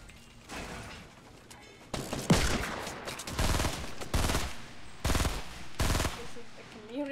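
Rapid gunfire from a video game shooter, including a pump shotgun, in loud repeated bursts with mechanical clicking between shots, heard close and dominant over the game's ambient noise.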